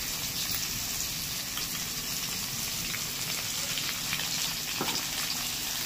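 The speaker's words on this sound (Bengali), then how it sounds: "এবার আলুটাকে ভেজে নেব।" Potatoes seasoned with turmeric and salt frying in a pan, a constant fine crackling sizzle like light rain, moderately faint and steady with no speech.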